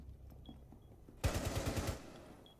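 Gunfire from the Rainbow Six Siege video game: a short burst of about seven rapid automatic shots, fairly loud, following a quiet stretch of faint game ambience.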